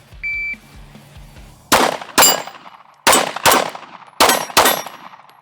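Six sharp pistol shots ring out in pairs, each crack followed by a metallic ring from steel targets at an outdoor range, loud and close with brief silences between the pairs.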